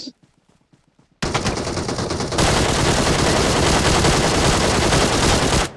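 Video game gunfire: after a few quiet clicks, rapid automatic bursts start abruptly and keep up a loud, continuous, dense rattle for several seconds before cutting off.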